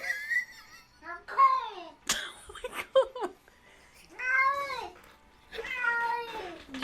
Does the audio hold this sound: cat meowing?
yes